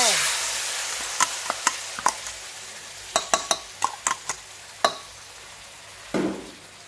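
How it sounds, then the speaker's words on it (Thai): A utensil stirs eel stir-frying in a pan, with a steady sizzle of frying underneath and a dozen or so sharp, close clinks and scrapes against the metal at irregular intervals. "คนให้เข้ากัน"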